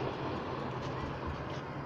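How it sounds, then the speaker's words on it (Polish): Trams running in Warsaw make a steady, low, rumbling rolling noise, distant and continuous, with no breaks over the short stretch. "Tramwaje pierwsze w Warszawie chodzą."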